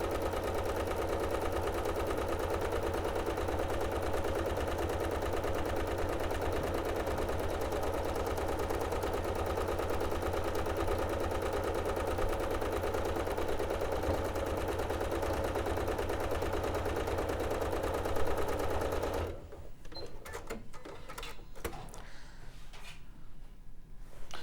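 A sewing machine stitches around fabric tree trunks in a continuous, fast, even whir for about twenty seconds, then stops, leaving a few faint handling clicks and rustles.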